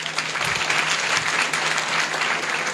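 An award ceremony audience claps for girl students at a science classes event in Bihar, a dense, even wash of applause held steadily for a few seconds with no voices over it.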